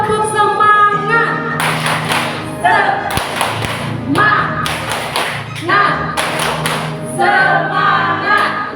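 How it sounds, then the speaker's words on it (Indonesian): A group claps out a rhythmic cheer in unison during a caregiver training session for the elderly, the loud claps falling in quick repeated patterns with short pauses between bursts, under music and a voice speaking. "Tepuk semangat dulu ya, sebelum gerak kita tepuk semangat dulu biar semangatnya lebih terbakar."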